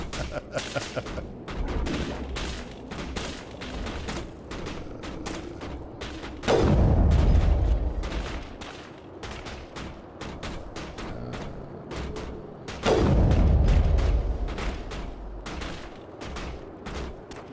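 Weapon fire in Mass Effect, played as a soldier class, rattles in rapid bursts of crisp shots, with two heavier booming blasts that swell and fade, while a player talks over the action.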